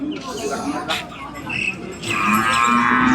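Cattle mooing at a busy livestock market in Vadalur, with several loud moos and lowing calls over a constant crowd murmur and people talking nearby.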